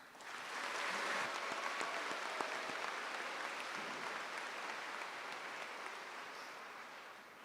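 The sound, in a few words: round of applause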